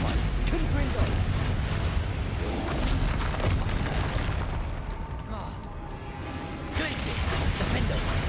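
Confringo explosive spell blasts in the Hogwarts Legacy video game, loud booming detonations with crackling debris in a dense, continuous roar of combat effects, briefly dipping before swelling again.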